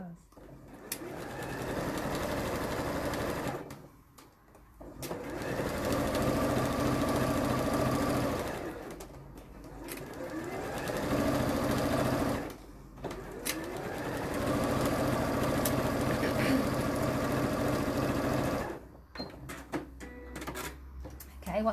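A sewing machine stitches a hem facing in long, steady runs broken by a few short pauses, its fast rhythmic whirr close and prominent while a voice talks faintly underneath.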